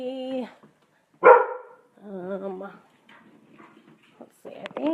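Several dogs bark excitedly at a house as a visitor arrives, sharp bursts coming in uneven clusters with short pauses between, fairly close and loud.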